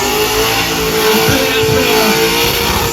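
A drift car engine revs hard and loud while warming its tyres at a drift show, holding a continuous roaring drone with surging pitch throughout.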